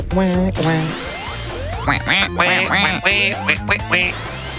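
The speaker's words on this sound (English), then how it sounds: "We love the ducks." Cartoonish duck quacks from a video game, a quick series of bright, nasal squawks in uneven bursts over a soft musical backing.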